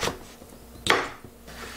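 A knife cuts cucumber into bite-size pieces on a board: two or three soft chopping knocks, one sharper crisp cut near the middle, close and fairly quiet with no talking.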